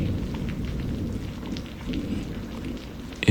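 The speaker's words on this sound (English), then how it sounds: "It's raining again." Steady rain hisses continuously with a low, rumbling undertone of distant thunder, a dense, even wash of sound with no voices.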